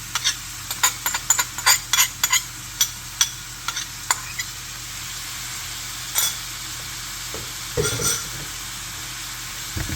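Shredded carrot sautéing in a pan with shallot for Uzbek pilaf, a steady soft sizzle broken by sharp clicks and scraping stirs, loudest in the first few seconds.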